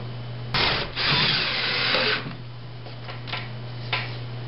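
Short whirring bursts of a power drill driving drywall screws through a projector mount, close and moderately loud, one longer run followed by brief quieter pulses over a steady background hum.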